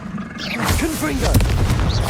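A Confringo blasting spell in the game Hogwarts Legacy bursts into a loud, sustained explosive rumble with a whooshing roar, a voiced game cry rising over it midway.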